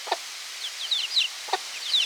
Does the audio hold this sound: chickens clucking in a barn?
yes